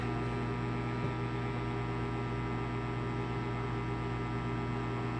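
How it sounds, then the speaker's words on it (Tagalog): A steady, droning mechanical hum with a constant noisy hiss fills the whole stretch, unchanging and fairly loud, like a motor-driven blower running nearby. "medyo maingay yung ating video dahil po sa blower"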